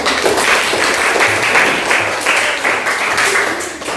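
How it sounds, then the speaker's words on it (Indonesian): Audience applause following a classroom presentation, a steady wash of many hands clapping together for about four seconds with no voices over it. "Sangat luar biasa, kita berikan aplaus."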